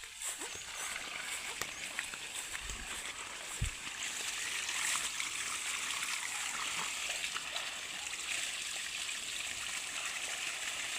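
Water flows steadily close by, a continuous broadband rush with a few faint splashes and soft thumps in the first few seconds.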